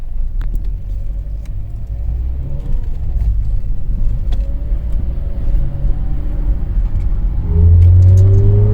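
VW Polo Mk5 1.4 MPI/FSI fitted with a performance air filter, its engine droning steadily up close before a louder, deeper rev rises near the end, with no talking over it.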